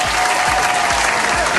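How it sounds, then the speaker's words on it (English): A dense burst of audience applause and cheering, loud and continuous with many hands clapping at once, heard on its own without speech. "Keep cheering for me."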